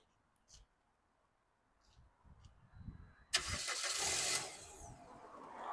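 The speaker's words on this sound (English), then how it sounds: "Go start the car." A car engine cranks and catches after a jump start with a portable 1200-amp jump box, triggered by a remote starter; a loud sudden start follows quiet faint sounds, then settles into a steady idle, fairly close.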